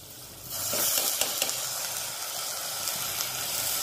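Rice tipped into sizzling masala in a pan: quiet at first, then a sudden, close burst of frying hiss that swells and stays bright and steady, with a few soft stirring scrapes and no speech.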